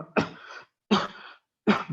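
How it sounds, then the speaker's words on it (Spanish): Three harsh coughs, evenly spaced and close, each a short rough burst with silence between. "recuperarnos un poquito de la tos"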